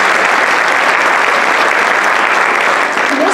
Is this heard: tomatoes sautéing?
no